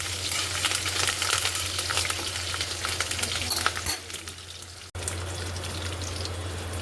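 Fresh curry leaves frying in hot oil in a pan, a loud close sizzle with crackling bursts that quietens toward the end and is cut by a brief break before the sizzling resumes.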